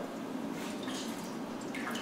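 Water drains from a film developing tank being emptied during black and white film processing, a close, steady trickling and splashing flow with faint dripping, moderately quiet and continuous with no speech.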